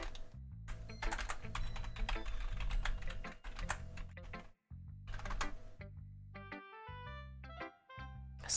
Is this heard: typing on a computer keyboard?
yes